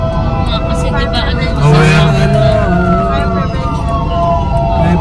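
Fire trucks in a Fire Prevention Month parade in the Philippines blare wailing sirens that swell and glide in pitch over heavy traffic noise, loud and near, with a horn-like blast partway through.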